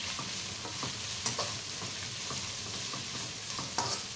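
Ingredients for spicy hakka noodles stir-fry in a hot pan, a steady close sizzle broken by repeated sharp scraping and clanking strokes of a spatula at an uneven rhythm, with no talking.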